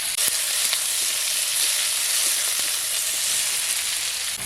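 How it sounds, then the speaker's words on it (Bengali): Onions fry in hot oil in a wok for a country chicken curry, a loud, close and continuous sizzle that holds evenly from start to finish with no talking. "পেঁয়াজটাকে ভালো করে লাল লাল করে ভেজে নেব।"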